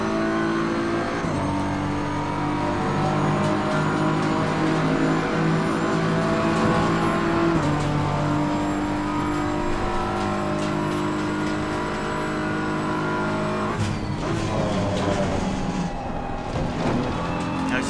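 A BMW M4 race car engine in Assetto Corsa Competizione at Imola holds a loud, continuous high-revving drone with audible gear changes, its pitch dropping around the middle and again near the end.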